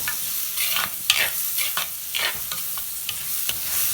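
Tomatoes and onions sautéing in a pan, being stirred with a spoon: rapid, steady sizzling with frequent scraping strokes, close and fairly loud, with no voices.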